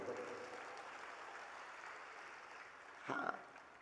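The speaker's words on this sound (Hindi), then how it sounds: "अब अपने लिए ही ताली बजा लो खुद।" A crowd at a religious gathering claps in sustained, fairly distant applause that swells briefly near the end, with a voice faintly mixed in.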